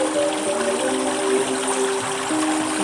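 Gently splashing, lapping water around bare feet at a sandy shore, a steady close wash with faint tonal hum beneath, no voices.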